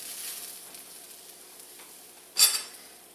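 Ribeye steak and vegetables sizzling in a pan, a soft steady hiss with a sharp metallic clink of utensil against the pan near the end.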